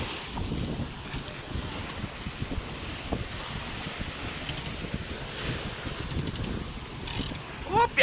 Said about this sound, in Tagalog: Kaya kahit malalaki yung alon, namamasag sa bangka.